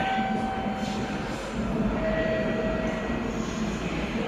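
A Nagoya subway train rumbles steadily with a low, continuous roar and a faint whining tone, close and loud, with no voices.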